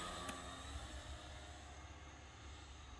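An E-Flite Brave Night Flyer, a 1.2 m RC airplane with AS3X, drones steadily overhead in a continuous, fairly faint engine hum with no speech.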